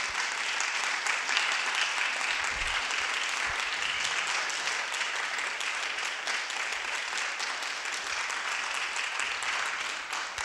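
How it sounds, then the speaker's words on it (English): Audience applause at the close of a film talk at a documentary festival, a steady, dense wash of clapping that holds evenly for the whole stretch with no voices over it. "A round of applause, please."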